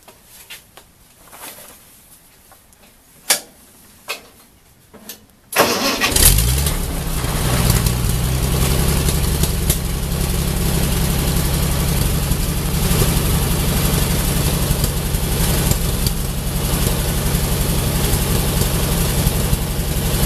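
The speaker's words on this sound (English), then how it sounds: "First thing to do is get the tractor started." A tractor engine in a workshop cranks and catches after several seconds of quiet clicks and knocks, then settles into a loud, steady, low rumbling idle that runs unchanged to the end.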